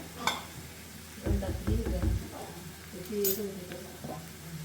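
Onion frying in a pan as ginger garlic paste goes in, a soft sizzle with stirring scrapes in short bursts, fairly quiet, with a voice speaking over it.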